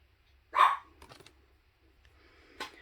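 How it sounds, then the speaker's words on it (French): Dogs barking indoors after a doorbell rang, one sharp nearby bark followed by fainter, more distant yaps in an otherwise quiet room. "les chiens aboyaient parce que on avait sonné à la porte"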